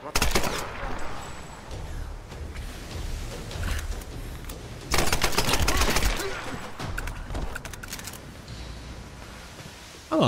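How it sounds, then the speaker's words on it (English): Enemy gunfire in Tomb Raider (2013), bursts of rapid automatic shots and single cracks, loud and close, with a heavy salvo around the middle, mixed with other game sounds. "Sounds like they got guns."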